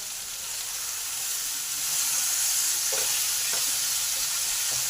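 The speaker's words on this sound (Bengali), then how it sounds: "এবার পেঁয়াজ কলিগুলোকে বিনস আর আলুর সাথে ভালো করে ফ্রাই করে দিই।" Beans, potatoes and spring onions fry in a pan with a steady close sizzle and hiss, a few soft scraping clicks of stirring breaking through the constant frying noise.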